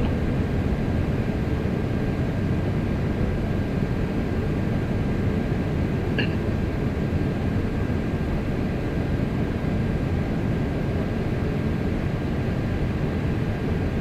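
An Airbus A330 coming in to land at Heathrow in the flight simulator MSFS 2024 fills the scene with a loud, unbroken engine and airflow roar, steady for the whole stretch with no talking.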